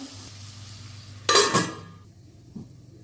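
Bitter gourd is fried and stirred in a pan, with a low steady background hiss and a loud burst of sizzling and scraping from stirring, then a soft clink as it dies down.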